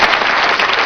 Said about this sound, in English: please give me a round of applause if you've ever seen one of these.